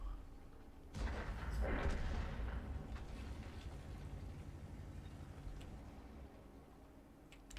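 Artillery fire in World of Tanks: a heavy booming impact at the start that decays into a long rumbling, crackling tail, with faint ticking clicks afterward and no talking.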